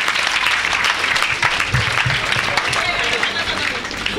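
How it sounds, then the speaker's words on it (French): Church congregation applauding and cheering during a worship service, a continuous dense wash of clapping with shouts and voices mixed in throughout, loud and close. "Quelqu'un acclame le Seigneur."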